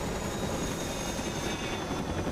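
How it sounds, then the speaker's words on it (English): Dense, constant rotor-and-engine roar of a Chinook helicopter passing through smoke, loud and close with no gaps and no voices. "Chinook's gonna come through the smoke here in a minute. There's that Chinook."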